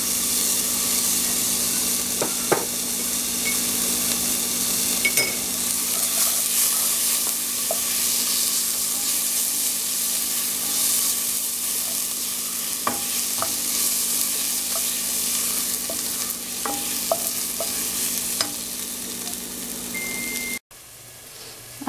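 Ginger, garlic and chili fry in a pan for malai kofta, hissing with a steady sizzle and a faint hum, broken by occasional pops and light stirring clicks, until the sound cuts off near the end.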